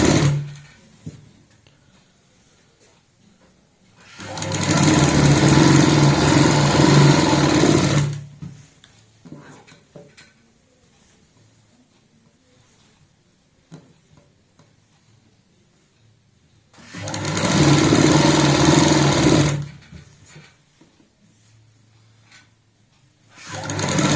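A sewing machine stitches a seam on a palazzo pant in two loud, steady bursts of rapid whirring, each lasting a few seconds and separated by quiet pauses with faint handling noises.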